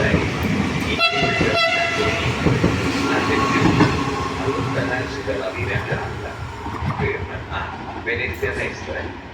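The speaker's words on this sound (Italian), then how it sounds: "Il treno regionale veloce 3503 di Trenitalia, proveniente da Verona Tornanuova e diretto a Venezia Santa Lucia, delle ore 16, è in arrivo al binario" Trenitalia regional express train arriving at Padova station, rumbling and clattering along the platform with a horn blast early on, under a station announcement.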